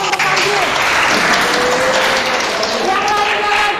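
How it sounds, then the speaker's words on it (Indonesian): A school class gives a round of applause for a classmate, a steady, close wash of clapping that holds evenly throughout with a few voices underneath. "Berikan tepuk tangan dong untuk Panji."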